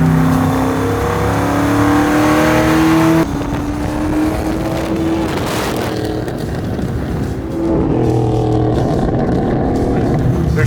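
A Roadster Shop Camaro with a naturally aspirated 750 hp engine revs hard in repeated loud bursts, rising and falling, then settles into a rough idle before revving again.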